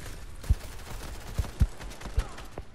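Gunfire in a Fortnite squad match: a few sharp, spaced shots crack over a low background bed, close and fairly loud, with faint voices in the mix.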